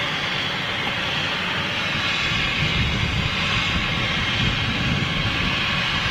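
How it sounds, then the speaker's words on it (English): A Flybe Dash 8 turboprop airliner passes overhead on approach into Heathrow, a loud, steady broadband engine roar that holds evenly throughout with no voices. "There's a Flybe Dash 8 going into Heathrow above me"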